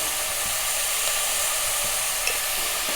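Sliced onions with salt sautéing on a tawa for Indian street-food egg masala, a dense continuous hiss and crackle with soft stirring scrapes, close and even throughout, no voices.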